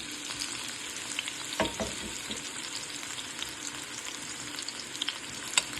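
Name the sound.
onions frying in hot oil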